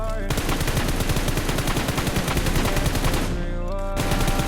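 Rapid, dense automatic gunfire from a mobile shooter video game during an aim-training drill, rattling continuously with only a brief break near the end, loud and close, with no talking.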